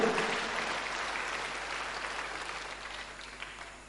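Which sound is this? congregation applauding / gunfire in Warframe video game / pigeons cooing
congregation applauding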